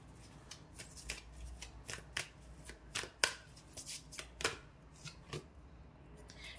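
A deck of tarot cards is being shuffled by hand, giving a close, quiet flurry of crisp riffles and slaps in an irregular rhythm, with no voices.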